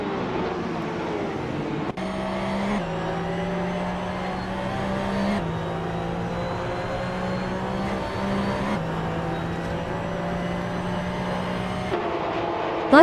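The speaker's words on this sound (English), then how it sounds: "But Bacio Grande is leading the race with a Porsche 991 GT3 Cup from 2017." Porsche 991 GT3 Cup race cars from 2017 in a video game race, heard as a steady engine drone with gear shifts and pitch jumps, continuous and fairly even.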